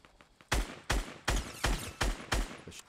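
Gunshots in the video game Fortnite, six loud, sharp reports fired in a fairly even rhythm after a quiet start, each with a short decaying tail.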